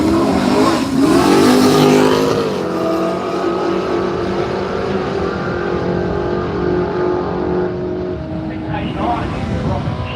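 A red Camaro drag racing at Willowbank Raceway roars loudly, its engine note rising sharply at the start, then holding a sustained strained drone before fading slightly toward the end.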